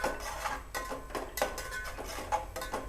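Ginger and garlic paste with onion sautéing over low heat in a pan, with repeated scraping and clinking strokes of a spoon at a steady rhythm over a quiet sizzle, no talk.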